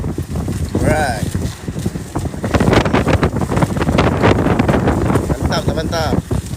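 Strong wind buffets the microphone on open sea during a sailboat race, a loud, steady rushing roar with water noise, while people shout and talk excitedly over it.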